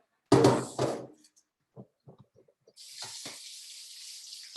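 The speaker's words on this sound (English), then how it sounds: "I'm going to drain it just a little bit, just to get rid of some of that water" Starchy rinse water is poured off washed food in a home kitchen, opening with a heavy splashing gush, then a few scattered drips and knocks before a steady hissing trickle of water settles in.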